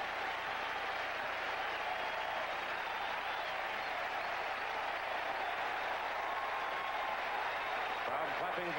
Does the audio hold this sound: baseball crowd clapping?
yes